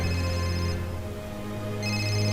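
Phone ringing in the video game Serious Sam 3 BFE, a steady electronic ring tone that stays loud for the whole moment, dipping slightly midway before swelling again, with no talk over it.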